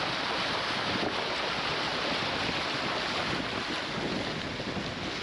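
A camper van drives through a river crossing in downtown Antigua, a steady broadband rush of water and engine noise held evenly throughout, moderately quiet, with no voices.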